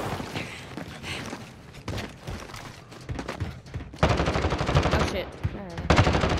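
Video game gunfire in a squad-based shooter: bursts of rapid automatic fire, some distant and some louder and closer, with a player voice reacting briefly.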